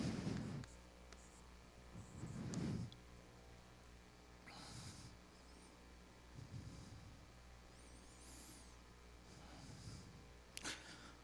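Pen or marker scratching out a formula on a board during a logic class, in several short bursts of writing separated by pauses, fairly quiet with faint room noise.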